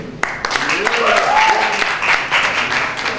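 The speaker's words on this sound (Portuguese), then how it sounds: "salve de palmas pra coxinha aí" Audience clapping and cheering for a sketch comedy act at a comedy sketch festival, a lively uneven round with sharp individual claps and a voice calling out over it.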